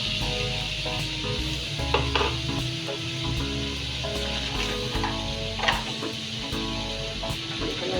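Onions frying in oil in a kadai for a Bangladeshi goat head meat curry, a steady close sizzle with occasional soft stirring scrapes, no talk over it.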